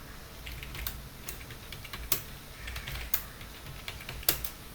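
Close, quiet keystrokes on a computer keyboard as a password is entered, with several sharper key presses standing out in an uneven rhythm and no talk.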